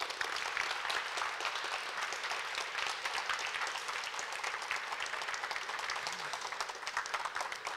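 An audience applauding after a lecture in a library hall, dense steady clapping from many hands that carries on evenly for the whole stretch, with no voices over it.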